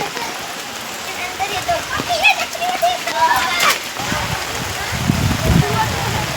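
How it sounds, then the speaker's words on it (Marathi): Steady heavy rain hisses and patters close by, with people talking over it as they set out to fetch the Gauri idol during a traditional village Gauri festival. "पाऊस पण भरपूर पडतोय"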